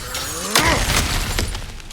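A crash of cracked ground being smashed open in God of War Ragnarok, a loud close burst of shattering rubble that trails into scattered debris.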